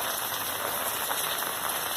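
Rain falls steadily on garden plants with budding flowers, a dense, even hiss of drops close by, with no speech.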